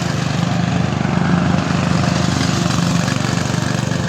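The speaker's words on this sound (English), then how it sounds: "There he is, on his mower." A ride-on lawn mower that is not running well drones steadily nearby, its engine a loud continuous buzzing hum with a slight pulsing throb and no pauses.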